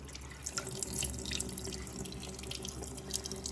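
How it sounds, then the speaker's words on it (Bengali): Tap water runs and splashes steadily close by as the face is wet and washed at a sink, a continuous hissing flow with small drips and spatters. "জল দিয়ে একটু ভিজিয়ে নিচ্ছি।"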